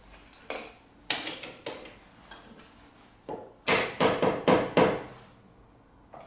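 Hammer blows straightening a hard washer on a workbench while building a lathe spindle nose bush extractor, sharp metallic strikes in two bursts, loud and close, no speech.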